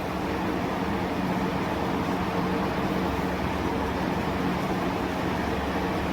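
A Novamax Gloster air cooler blows at full strength, giving a loud, even broadband whoosh of rushing air with a low fan hum that stays constant throughout.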